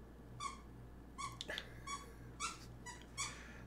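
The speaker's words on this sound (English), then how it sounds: "That's a creaky toy in the background." A creaky, squeaky dog toy squeaks in the background in a series of about six short, high-pitched squeals with irregular spacing, fairly faint over a low steady hum.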